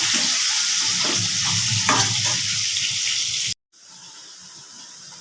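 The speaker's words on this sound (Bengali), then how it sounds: "এবার আমি আলুটা ভালো করে ভেজে নেব" Steady sizzling of potatoes with salt and turmeric frying in a pan, with occasional stirring scrapes, then a brief drop to quieter sizzling near the end.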